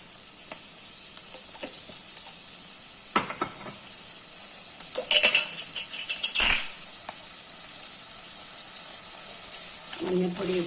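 Eggplant sautéing in a pan with turmeric and salt for a coconut-free curry: a steady low sizzle with occasional spoon scrapes and clinks against the pan, moderately close, with brief speech near the end.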